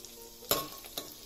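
Chopped ginger and deseeded green chilies sizzle softly in a pan, with two brief stirring scrapes over a steady, quiet frying hiss.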